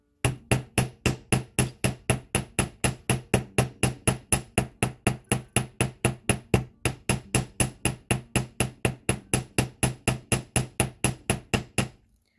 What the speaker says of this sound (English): Okay, so I'm gonna do a bit of hammering again.